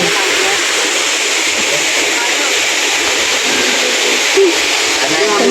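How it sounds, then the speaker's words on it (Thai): Tad Yuang waterfall in Pakxong, Laos, roars as a steady, loud, unbroken rush of falling water that stays constant from start to finish with no pauses. "น้ำตกตัดเยือง"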